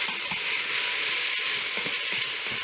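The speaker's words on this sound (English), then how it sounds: "add in your 2 onions and just a little bit of salt and pepper" Two onions with salt and pepper sizzling in hot olive oil in a stock pot for spicy chicken chili, a continuous close, bright frying hiss with small crackles and pops throughout.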